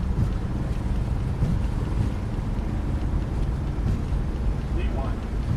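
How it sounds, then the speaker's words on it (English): Strong wind buffeting an airliner during takeoff from Leeds in Microsoft Flight Simulator 2020, a loud steady rushing roar with engine rumble, continuous throughout. "Bloody hell, a lot of wind."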